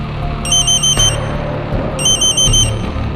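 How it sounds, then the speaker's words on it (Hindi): Loud phone rings come as two bursts of bright electronic trilling, each made of quick repeated pulses, with a short pause between them against a low background hum. "तभी उस शांति को भंग करते हुए पुष्कर का फोन बजा।"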